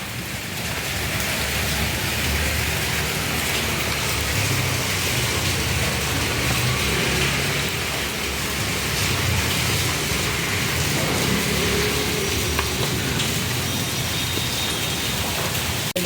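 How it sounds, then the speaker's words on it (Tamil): Heavy rain pours steadily during a thunderstorm in Chennai, a dense, continuous hiss of drops hitting surfaces that holds loud and unbroken throughout, with no voices over it. "ட்ராப்லெட்ஸ் ஊற்றிட்டே மழை பயங்கரமாக பேஞ்சிட்ருக்கு."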